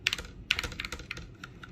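Keys clatter on a RisoPhy ultra-slim TKL mechanical gaming keyboard with linear switches, a quick close run of crisp clicks of uneven strength, heard alone.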